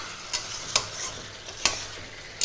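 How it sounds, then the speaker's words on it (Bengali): Chicken masala with spices is stirred in a frying pan, with sharp scraping clinks of the spoon at irregular intervals over a soft background sizzle. "তো মশলাটা দেওয়ার পর আমি আরও 30 সেকেন্ডের মতন আমি একটু নাড়াচাড়া করছি।"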